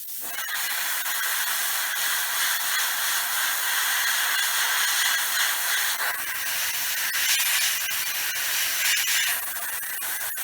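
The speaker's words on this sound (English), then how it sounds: "let's give it a blast with the airbrush so we can do the opposing ones" Steady airbrush spraying paint onto a model, a continuous close hiss that holds for the whole stretch with a slight change in tone partway through, no talking.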